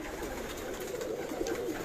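Cooing of a large flock of roughly a thousand pigeons kept on a rooftop in Karachi, a soft continuous murmur of overlapping calls at moderate distance.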